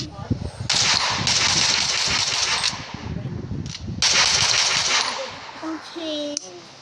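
Guns firing in the Melon Sandbox video game, loud sustained bursts of rapid automatic fire in two long stretches with short gaps, followed by scattered lighter game sounds.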